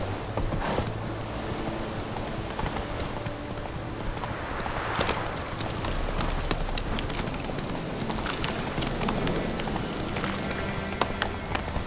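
Horse galloping in The Witcher 3, a rapid steady run of hoofbeats held at moderate distance for the whole stretch, with a rain-like hiss and scattered clatter underneath.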